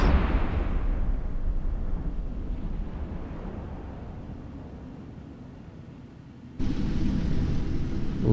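A Cyclone ship blowing up in the space game EVE Echoes: a loud, sustained explosive rumble that slowly fades over several seconds, then a sudden fresh blast of roaring noise near the end.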